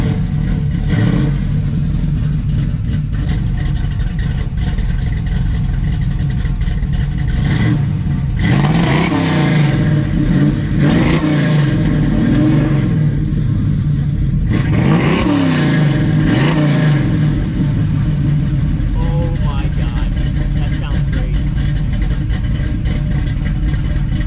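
An old Camaro's engine idles loudly with a rough throb, then gets revved hard in two big surges that rise and fall, with clattering mechanical noise throughout, close up.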